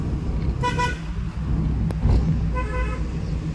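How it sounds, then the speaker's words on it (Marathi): Two short car horn toots from a Maruti Eeco sound a few seconds apart over a steady rumble of engine and road traffic. "तर बघा हॉर्न मारतोय तिकडून पाठून।"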